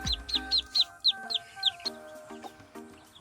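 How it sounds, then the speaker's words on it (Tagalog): A brooding hen clucks in a quick series of short, high calls, close by, followed by softer low clucking notes. "meron pa rin po dito na dalawang inahin na naglilimlim."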